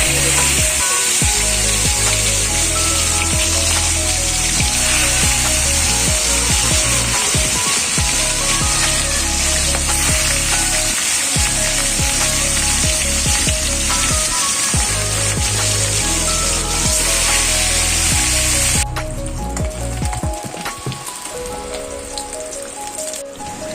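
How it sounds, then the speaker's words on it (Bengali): Fish frying in hot oil in a home kitchen makes a loud, dense, continuous crackle and spatter for a long stretch, then softens to a quieter sizzle near the end. "এবার এই যে মাছটা একটা করে নিয়ে এবার তেলের মধ্যে"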